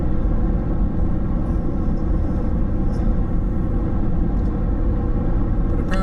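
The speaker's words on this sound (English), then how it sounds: "So it's holding that second gear." A Toyota Corolla with an A240L automatic transmission holds second gear, its engine giving a steady, loud low rumble and drone that stays unchanged throughout.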